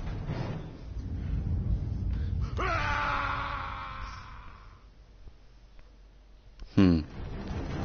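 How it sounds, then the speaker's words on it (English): An anguished scream from a video game character rises as a strained, wavering cry in the middle of the clip, over a low rumbling backdrop, followed by a short sharp hit near the end. "That scream wasn't the best I've heard in regards to anguish screams."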